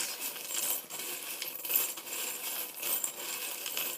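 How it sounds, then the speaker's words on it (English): Small metal charms clink and jingle continuously as they are shaken together, bright and close, with no talking. "I'm going to shuffle your charms."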